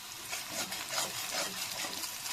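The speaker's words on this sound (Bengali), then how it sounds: "এবারে কিছু গোটা রসুন তেলের মধ্যে দেওয়া যাক" Whole garlic cloves sizzle and crackle in hot oil in a pan for a spicy chicken curry, a loud, steady, dense frying hiss with no gaps.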